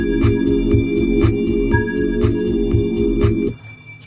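A synth patch built from the Alpha Centauri preset plays a loud, sustained tone over a steady pulsing low rhythm, with bright accents recurring about every half second, then cuts off abruptly near the end.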